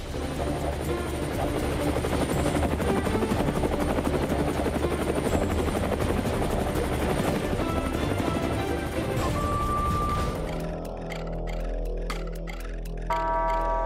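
An Indian Air Force resupply helicopter flies over a high-altitude battlefield, its rotor thudding loud and steady for about ten seconds before the sound cuts away to quieter ambience.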